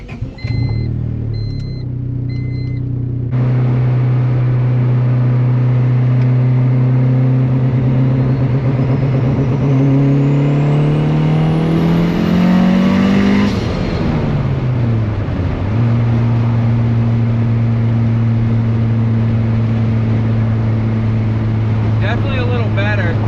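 Turbo Honda Civic with anti-lag, running loud and close in the cabin: a steady droning engine climbs in pitch as the car accelerates, briefly drops, then settles back into a sustained hum, with no talking.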